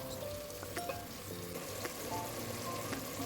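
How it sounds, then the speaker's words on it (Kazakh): Meat fries in a pan for Kazakh kespe soup, a steady close sizzle with scattered pops and crackles throughout. "Етіміз әдемі қуырылып, осыған кішкене тұз саламын"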